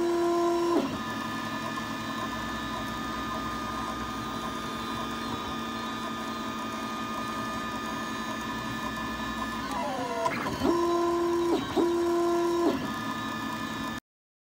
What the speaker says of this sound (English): let's take a moment and watch the Apple TV bracket print